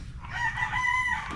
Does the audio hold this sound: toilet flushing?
no